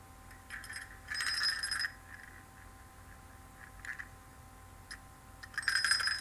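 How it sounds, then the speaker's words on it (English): A small bell rings in a few light, tinkling bursts separated by quiet pauses, soft and close. "It's just like this bell."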